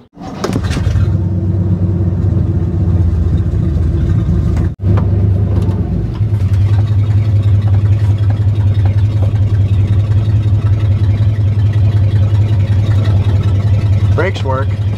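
A 1960 Chevrolet Impala V8, driven for the first time after sitting roughly 30 years, runs with a loud steady low engine drone that cuts out briefly before carrying on, while people talk over it.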